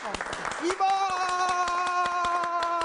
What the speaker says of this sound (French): Si vous voulez souhaiter un bel anniversaire, applaudissez plus fort.